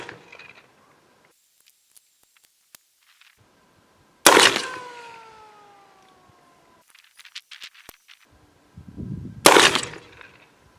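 Shotgun slugs fired through a rifled barrel, two loud, sharp reports several seconds apart, each ringing out into a decaying echo, with quiet handling clicks and rustles between shots.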